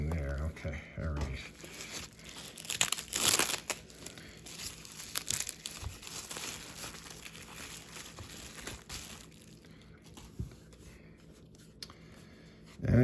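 A mail package is torn open by hand, with crinkly rips and rustling of paper and plastic, close up and under ongoing talk.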